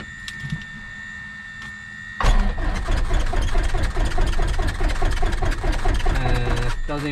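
A small training plane's engine at Cross Keys Airport turns over on its starter without firing. A quiet background gives way after two seconds to a loud, close, rhythmic chugging crank that keeps going steadily.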